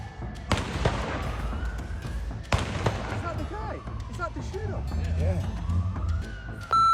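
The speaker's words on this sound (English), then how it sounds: "Gunshots echo across Bondi Beach as people flee in all directions" Two sharp, loud gunshots ring out a couple of seconds apart over a noisy, chaotic crowd at Bondi Beach, with a rising whine in the background.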